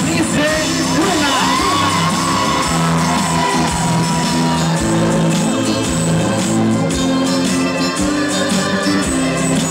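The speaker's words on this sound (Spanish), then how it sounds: "Y con un fuerte aplauso para Berenice Luna" A crowd at a quinceañera celebration cheers, whoops and shouts loudly and continuously, with music and dense party noise filling the space throughout.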